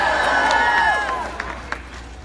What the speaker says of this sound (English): Wow, this is a great crowd